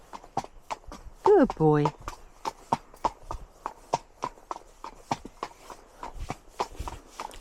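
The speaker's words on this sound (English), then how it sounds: "It's nice to be on a horse that walks out." A ridden horse walks along a road, its hooves clip-clopping in a steady, even rhythm close by, while a rider speaks softly over the footfalls.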